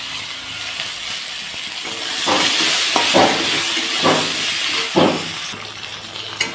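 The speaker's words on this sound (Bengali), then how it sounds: "প্রথমে বেগুনটা ভেজে নিচ্ছি, একটু পরিমাণ লবণ দিয়ে দেব।" Eggplant fries in hot oil with salt in a home kitchen, a steady close hiss and sizzle with several rhythmic scraping or stirring strokes through the middle.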